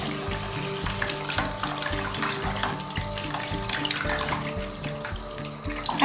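Water from a sink tap runs steadily during handwashing, a constant close splashing hiss with small clinks and rattles over it, moderately loud and free of talk.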